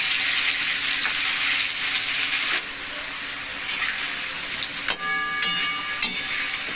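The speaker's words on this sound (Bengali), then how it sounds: "আলুটাকে আমি লাল লাল করে ভেজে নেব।" Potatoes fry in hot oil until reddish, a loud close hiss and sizzle that settles partway through, punctuated by a few clinks of stirring near the end.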